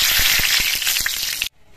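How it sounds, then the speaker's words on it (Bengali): Two bay leaves dropped into hot mustard oil in a wok, giving a loud, bright sizzle with crackling pops that runs steadily, then cuts off abruptly near the end. "এবার এই তেলের মধ্যে দিচ্ছি 2টো তেজপাতা"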